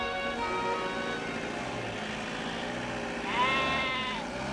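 A herd of sheep in the high Himalayas bleating, several animals calling over one another in drawn-out overlapping cries, with a louder nearby bleat toward the end and a low engine rumble underneath.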